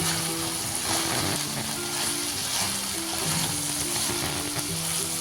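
Lingdu fern sabzi, tossed with turmeric and Kashmiri chili, fries in a pan with a dense, even sizzle and soft stirring scrapes, loud and close, over a faint steady tonal hum, with no talking.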